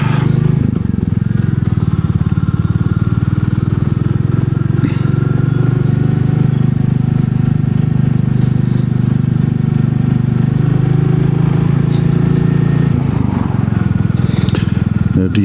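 Royal Enfield Meteor 350 engine rumbling steadily and loudly while riding, a continuous close low drone with wind noise, faint clatter and brief scraping sounds on top.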